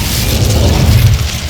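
Casting the Incendio fire spell in Hogwarts Legacy on Xbox Series S gives a steady, loud, roaring whoosh of flame with a deep rumbling body that holds without a break.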